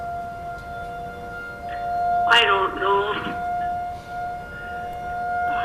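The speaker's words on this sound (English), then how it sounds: "sirens are being tested" Outdoor civil defense sirens being tested sound as a steady, droning tone that runs through the whole stretch, behind a meeting room where people talk over it.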